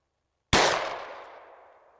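A single .44 Magnum gunshot fired through a chronograph, one loud sudden crack after silence that rings out and decays over more than a second.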